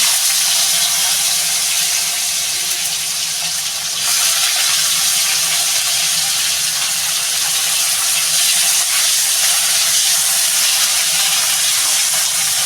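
Cut bitter gourd frying in hot oil, a loud, dense and continuous sizzling hiss that runs throughout without pause or voices.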